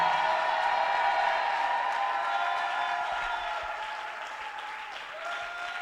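A worshipping congregation in church claps and cheers in a thick, continuous roar of applause with sustained vocal tones and whoops, slowly fading over several seconds.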